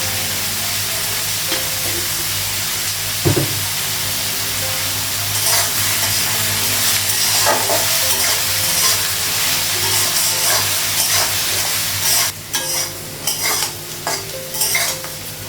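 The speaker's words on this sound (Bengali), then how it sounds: "আলুটা পেঁয়াজটা ভাজা হয়ে গেছে" Potato and onion fry in a pan with a close, continuous sizzle, broken by a clunk early on and repeated scraping stirs of a utensil against the metal.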